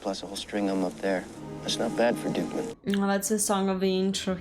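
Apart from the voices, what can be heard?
None of the usual background noises is heard.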